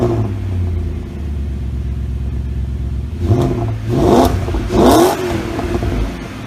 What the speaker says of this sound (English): so here's a sound of the V8